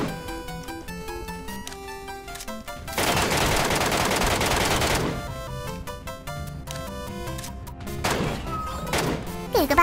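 MK14 rifle fire in a shooter game, a loud dense stretch of rapid shots surging in the middle of the clip over game music, with more scattered shots near the end.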